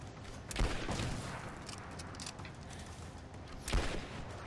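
Gunfire in the video game Rise of the Tomb Raider: rapid shots crackle through a dense, noisy battle mix, with two louder booming reports standing out, no speech over it.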